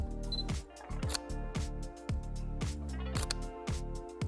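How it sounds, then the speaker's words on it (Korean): A camera shutter set to a slow two-second speed fires, producing crisp mechanical clicks that stand out against steady background music. "셔터 스피드를 조금 느리게 해서 2초 정도로 한번 설정해 놓고 찍어 볼게요"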